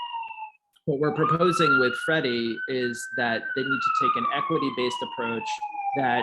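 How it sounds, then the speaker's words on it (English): An emergency siren wails steadily outside throughout, its long rising and falling tone clear and fairly loud while a lecturer keeps speaking over it. "sorry about that siren."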